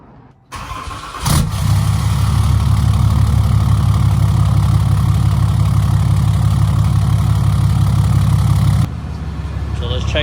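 A Cummins diesel engine after an EGR delete cranks and starts, then settles into a loud, steady idle with a low rhythmic knock, close up, before the level drops slightly near the end.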